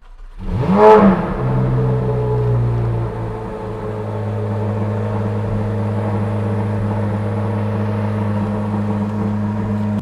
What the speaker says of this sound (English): not gonna lie, it's a pretty solid cold start like that.